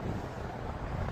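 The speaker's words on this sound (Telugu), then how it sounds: "చాలా విండిగా ఉంది, ఎప్పుడంతే ఉంటది" Strong wind gusts buffet the microphone outdoors in the desert town of Laughlin, Nevada, beside the river, producing a steady, loud low rumble with no talking over it.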